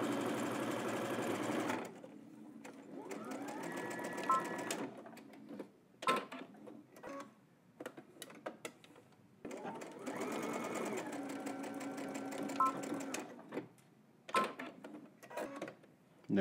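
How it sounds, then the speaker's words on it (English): Sewing machine stitching a bodice seam at a 5/8-inch allowance, running in two long bursts separated by quieter stretches of rustling and handling of fabric. "let's head to the machine. We're gonna stitch here using 5/8 of an inch and then across the top."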